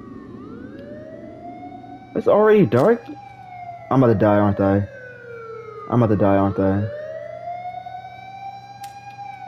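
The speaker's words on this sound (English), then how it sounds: "That is a siren." A police siren in a horror video game wails in three loud, rising bursts roughly two seconds apart, over a steady background drone, with someone talking nervously between the bursts.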